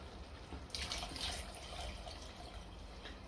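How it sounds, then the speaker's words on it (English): Water poured into a shepherd's pie meat mix in a pan, a soft splashing trickle that starts abruptly and then settles into a faint steady pour, with no talking. "So what we do here is we add water."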